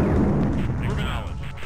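A loud, heavy boom bursts out and rumbles away over a second or so, with a crackling, game-like explosion tail, from the video game Dune 2 (The Maker V.0.6.0).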